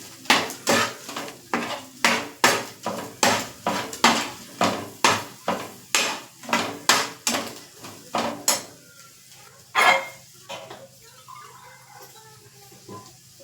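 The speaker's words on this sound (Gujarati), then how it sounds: "આ બધું નાખી આપણે તેને હલાવી લેશું" A spoon stirs a dahi tikhari mixture of curd and spices in a metal pan, clinking sharply against the sides in a steady rhythm of close, loud scrapes for about nine seconds before slowing to a few isolated knocks.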